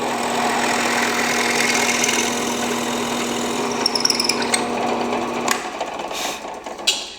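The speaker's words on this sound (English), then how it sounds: "We're going to drill our hole." A steady drill motor whir, boring a hole into a guitar neck with a depth stop, runs for about five seconds, then cuts out, followed by a few light knocks and clatters.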